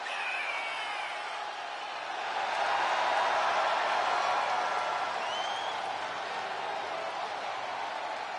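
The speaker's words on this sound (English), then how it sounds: "Listen to this ovation. The WWE Universe loves cheering on the EST." Arena crowd in the WWE 2K video game giving a sustained ovation, dense cheering and applause that swells in the middle and holds, with faint whoops rising over the roar.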